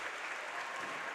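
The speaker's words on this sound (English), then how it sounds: "Bench and crowd stands up to give Scott Norton a big round of applause as he leaves." Bench and crowd at a high school boys basketball regional semifinal give a departing senior player a standing round of applause, heard as a short, soft, steady wash of clapping in the gym.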